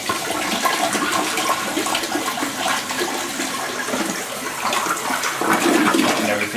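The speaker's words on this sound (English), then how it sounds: "we give it a flush" A household toilet flushes after its fill valve is replaced, a steady loud rush of swirling water that continues the whole time and surges slightly near the end.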